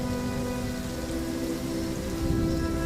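Steady, dense rainfall patters on a surface throughout, a continuous even wash of drops with no voices.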